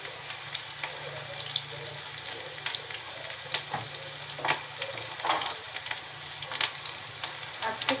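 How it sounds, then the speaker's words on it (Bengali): Chopped onion and sliced green chilies frying in hot oil, a steady close sizzle with scattered crackles and light utensil scrapes throughout, no voices. "তেলটা একটু গরম হলে দিয়ে দিব পেঁয়াজ কুচি, আরো দিচ্ছি কাঁচা ঝাল ফালি"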